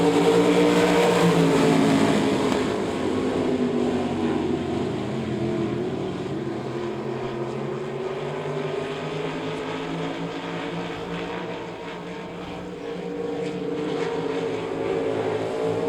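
Race cars roaring off side by side at a green flag start on a Devil's Bowl Speedway oval, a loud continuous engine drone with rising and shifting pitch, heavy at first and easing slightly, with no talking.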